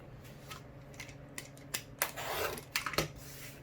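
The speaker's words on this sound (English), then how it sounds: "I'm going to cut the end of the star to the end of the star" Scissors cutting fabric along the end of a quilt star piece, a quiet close sequence of snips and blade clicks that grows busier midway, with faint rustling between the cuts and no talking.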